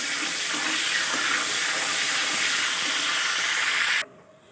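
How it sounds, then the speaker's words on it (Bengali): Dried red chilli, bay leaves and whole cumin sizzle in hot oil in a pan, a loud, dense, steady hiss that runs unbroken and then cuts off abruptly near the end, with no talk over it. "শুকনো লঙ্কা চিড়ে দিলাম দুটো তেজপাতা চিড়ে দিলাম আর একটু জিরে গোটা জিরে ফোড়ন দিলাম"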